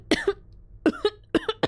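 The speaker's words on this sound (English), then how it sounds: "This just seemed to make her cough." A female character coughing in the horror video game Corpse Party: Book of Shadows, three short rough coughs, close and clear, with brief silent gaps between them.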